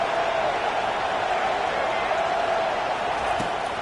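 Stadium crowd in a college football video game forms a steady, broad roar of cheering voices that holds constant throughout, with no distinct peaks.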